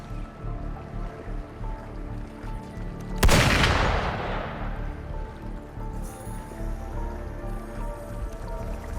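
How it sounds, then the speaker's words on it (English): Video game gunfire in Wuthering Waves: a single sharp burst cracks out, then decays into a long ringing tail over a steady low ambient rumble. "Gunfire!"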